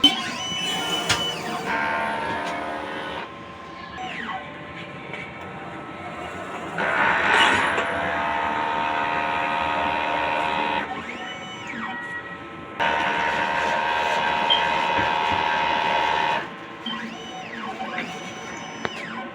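An inkjet printer running with its printhead carriage whirring back and forth and motors buzzing in long sustained stretches, close and fairly loud, separated by brief pauses.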